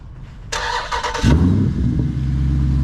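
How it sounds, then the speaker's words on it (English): A 2019 Jeep SRT with a straight-piped exhaust, 5-inch tips and an otherwise stock setup starts warm: a brief high starter whir, then the engine catches with a loud, deep burble that settles into a heavy, steady idle. "Show y'all how it sounds off the start up."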